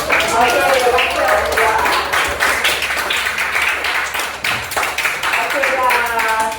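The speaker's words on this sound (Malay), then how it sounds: "kita ada volunteer kita tepuk tangan." An audience in a teaching session claps rapidly and unevenly for several seconds for a volunteer, the applause loud and close with brief dips in intensity.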